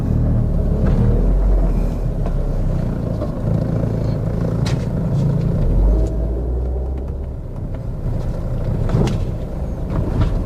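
A 2013 Chevrolet Spin LTZ automatic petrol car out on a test drive, its steady low engine and road rumble filling the cabin throughout, with a slight dip midway and no talking.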